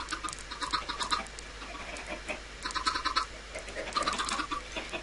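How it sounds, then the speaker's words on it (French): Chickens in the Minecraft video game cluck in repeated short bursts, several birds sounding close and overlapping in clusters, with no speech over them. "Normalement, il y a assez de poules."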